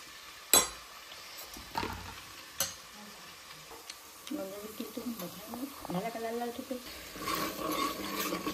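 Garlic-ginger paste and roasted onion-coconut paste fry in a pan for chicken rassa, with a few sharp clanks of a spoon against the pan followed by a soft, steady sizzle while someone talks over it.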